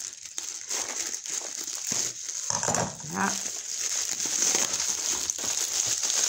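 Wrapping paper crinkles and rustles during a Christmas unboxing of diamond painting storage boxes, close, irregular crackling bursts over several seconds, with a brief spoken word.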